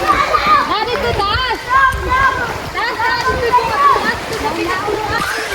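People bathing in water outdoors splash about, with water noise running under a steady stream of excited voices, including children, that shout and chatter throughout.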